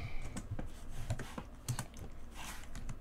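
Close, moderately quiet typing on a computer keyboard during coding, with a steady patter of key clicks and occasional heavier strokes throughout.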